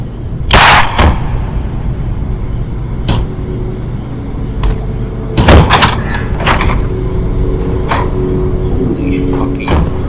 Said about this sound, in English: Sir, we're gonna knock down the door.